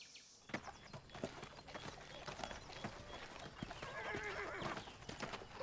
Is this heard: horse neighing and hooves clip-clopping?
yes